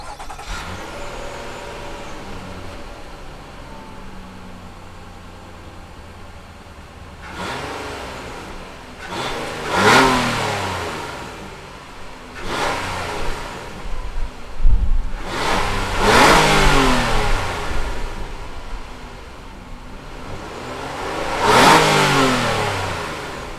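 A 2016 Nissan Murano's 3.5-liter V6 engine revs in four or five distinct surges separated by quieter idling, each climbing and falling in pitch, heard close with no talking.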